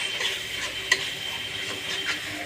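A spoon stirs rui fish curry in a pan after water is added, making a soft, close, steady scraping swish over a faint sizzle with one brief clink.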